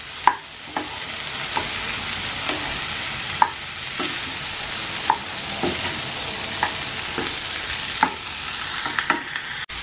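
Broccoli and bacon frying in a pan for a stew, with a steady sizzle broken by regular sharp clinks and scrapes of stirring, and no one talking.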